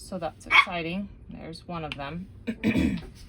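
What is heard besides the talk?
puppy barking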